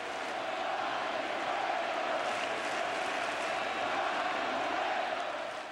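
A World Series baseball crowd in Kansas City roaring as pitcher Johnny Cueto takes the mound, a sustained distant wall of cheering and applause with no talk.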